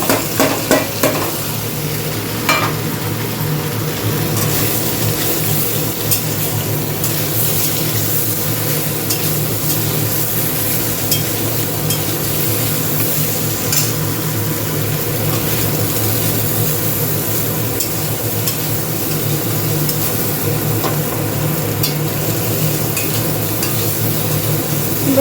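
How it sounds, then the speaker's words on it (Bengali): Paneer pieces fry in white oil in a pan, a steady loud sizzle that runs without break and carries occasional scrapes of stirring and utensil clinks, with no talking. "সাদা তেলের মধ্যে এগুলো ফ্রাই করব এখন"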